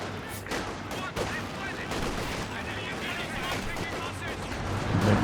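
Gunfire from the Company of Heroes 2 video game, with scattered rifle shots and bursts of automatic fire over a dense game soundscape, a caster's commentary running throughout.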